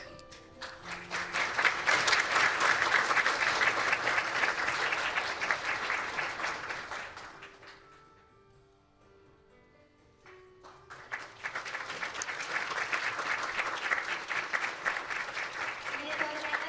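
Audience applause at a children's world peace summit as winners receive plaques; a sustained burst of crowd clapping fades into a quieter gap, then a second strong round of clapping rises and continues to the end.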